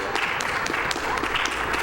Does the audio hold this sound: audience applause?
yes